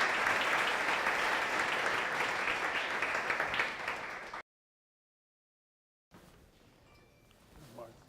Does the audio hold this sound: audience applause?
yes